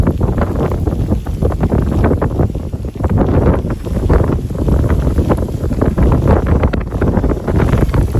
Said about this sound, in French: Beaucoup de vent là.